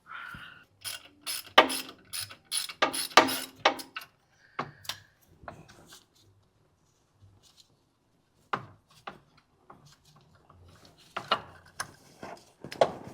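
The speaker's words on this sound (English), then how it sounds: "And then just need to take off these last 2 bolts." Hand ratchet clicking in short bursts while backing out the last bolts on the AC compressor of a Lexus RX330, close and crisp, with a quiet pause midway before a few more clicks resume.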